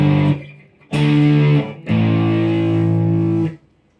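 An electric guitar runs through a distortion pedal into an amp, sounding three loud, thick sustained chords with short gaps between them, alone with no voices.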